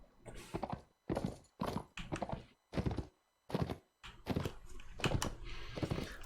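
Horse hooves clip-clop in repeated bursts in Mount & Blade Warband, a mount galloping with brief gaps between strides, loud and close, with an occasional whinny.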